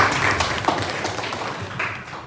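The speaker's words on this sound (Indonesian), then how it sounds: "Tepuk tangan untuk dua teman kita" Classroom applause for two students, a short burst of clapping from a small group, moderately loud and tapering off.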